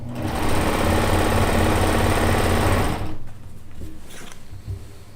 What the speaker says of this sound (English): I love the Euphoria serger.